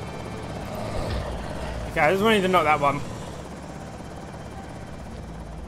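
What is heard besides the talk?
helicopter flying overhead in video game Project Zomboid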